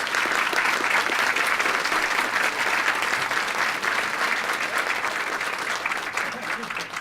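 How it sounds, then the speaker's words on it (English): An audience at an education debate applauds the introduced party candidates, a full, sustained round of clapping from many hands that stays loud and even before tapering slightly at the end, with faint voices mixed in. "I'd ask you to give them a round of applause."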